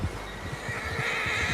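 A horse in the video game Red Dead Redemption 2 gives a loud, close whinny that rises and holds over a brief stretch, with no voices.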